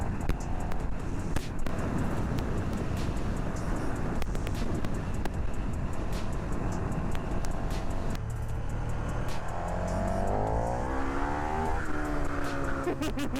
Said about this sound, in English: I'm gonna hop on the bike and finish the trip out, so give Eric a little break here